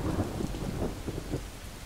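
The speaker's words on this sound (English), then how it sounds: "This one does not want any more thunder, please." Steady heavy rain with low rumbling thunder in a video game, a dense, continuous storm wash with rolling low booms underneath, no voices.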